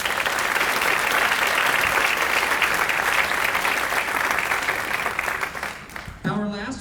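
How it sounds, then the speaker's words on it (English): A concert audience gives a wind ensemble's students a loud, sustained round of applause that holds dense and even for several seconds, then thins out and stops, with a voice starting up at the end. "So can y'all give them one last round of applause?"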